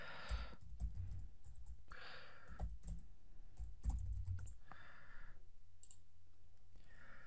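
Keys clatter on a computer keyboard in short bursts of quick typing separated by pauses, close and clear, as a username and password are entered to log in.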